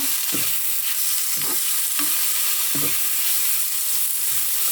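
Shiitake mushrooms stir-fry in sesame oil, a loud continuous sizzle close by, with rhythmic scraping strokes of a spatula against the pan about once a second.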